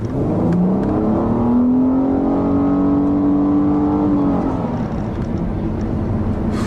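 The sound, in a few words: V6 car engine accelerating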